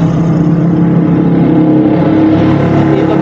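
A Honda motorcycle engine with a carburetor runs steadily and close by, a loud continuous low drone with no speech over it.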